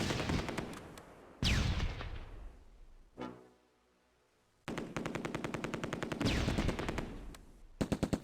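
A medium machine gun in the Close Combat: A Bridge Too Far war game rattles off long, loud rapid bursts, breaking into a short echoing pause and near silence before the firing resumes.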